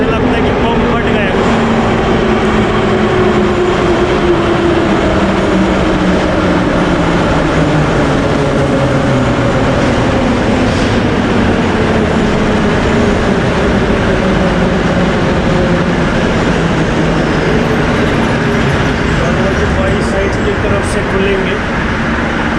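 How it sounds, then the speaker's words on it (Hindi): Moscow metro train arriving in an underground station, a loud continuous rumbling roar with rising and falling tones as the cars pull in, dense and close throughout. "यहाँ जब भी मेट्रो आती है बम फटने जैसा आवाज़ आ जाता है अंदर"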